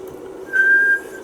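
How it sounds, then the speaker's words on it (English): A person whistles one sustained, steady note for about half a second into a microphone as a test, clear and close over a quiet room hum. "And I do my same whistle test as I did before, old grey whistle test."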